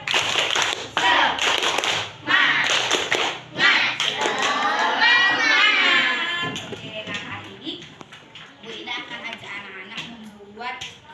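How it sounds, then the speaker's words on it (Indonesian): Schoolchildren in a classroom do a rhythmic clapping chant, bursts of claps alternating with sung and spoken group voices, then the clapping fades into talk. "yuk kita tepuk semangat dulu"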